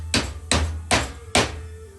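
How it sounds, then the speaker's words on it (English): A metal gate spearhead being hammered down onto a tube: four heavy, ringing blows at a steady, unhurried pace, loud and close, each one decaying before the next. "I'll just persuade it a little bit with a hammer."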